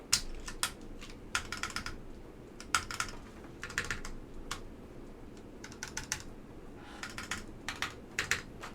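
Bursts of typing on a Jacky Design Hippo TKL mechanical keyboard with stabilized keys, clacking in quick clustered runs separated by short pauses, close and clear over a low background hum.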